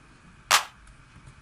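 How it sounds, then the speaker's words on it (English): A single sharp clap sample from a deep house drum track, crisp and close, with a second hit starting just as the sound ends. "then you have a clap"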